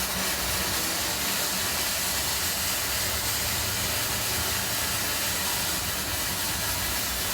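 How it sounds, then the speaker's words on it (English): Arc welding with a welder running off lithium jump starter batteries, a steady loud crackling hiss held for several seconds without a break, close up. "Dude, that was a beautiful weld."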